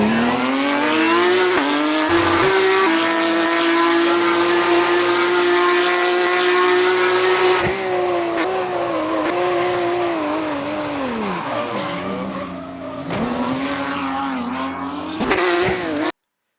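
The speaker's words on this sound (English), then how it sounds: "So Alan's got spooked by the car doing donuts on the track" A race car in a racing video game does donuts on the Sebring track, its engine screaming loud and continuous with rising and falling pitch as it revs through the spins, alongside tire squeal.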